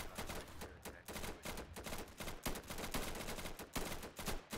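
Rapid video game gunfire crackles in dense, continuous bursts with brief gaps, loud and close throughout, as a player switches the weapon to semi-automatic during a co-op match.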